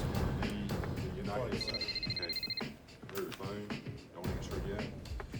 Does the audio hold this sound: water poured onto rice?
no